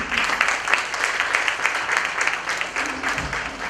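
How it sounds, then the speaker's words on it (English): An audience at an international knowledge conclave claps to welcome speaker Sriram Athri, producing a warm burst of applause that holds steady, fairly close, and then fades slightly toward the end. "let's make the environment warm with our claps and welcome SRIRAM ATHRI ji"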